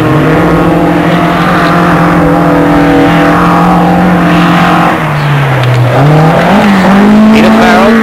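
A national-level rally car at the 1982 Ashley Forest Rallysprint, its engine droning loudly with a steady pitch that dips and then climbs again as it works through the forest stage, with a commentator talking over it.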